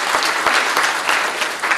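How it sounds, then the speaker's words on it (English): Dense audience applause at a research colloquium, a steady wash of many hands clapping at even loudness throughout, with no voices standing out. "Let's give them a round of applause."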